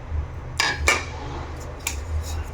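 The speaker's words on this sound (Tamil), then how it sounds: "ஒரு பேன் எடுத்துக்கிட்டேன். ஸோ அதில் வந்து இந்த 1 கப் அளவு ஓட்ஸ் வந்து நான் இதில் ஆட் பண்ணுறேன்." Oats being added to a pan for roasting: a few light, close metallic clinks and taps of a spoon against the pan, spaced irregularly over a quiet low hum.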